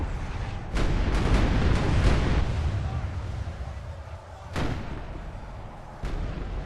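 Empire cannons and mortars fire in a Medieval 2 Call of Warhammer battle, about six heavy booming reports at irregular intervals, the first cluster close together, each cracking sharply over a constant low battlefield rumble.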